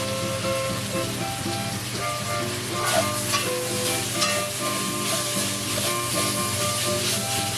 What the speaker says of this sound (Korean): 국물이 졸아들면 스리라차 소스를 넣고 잠깐 더 볶으세요.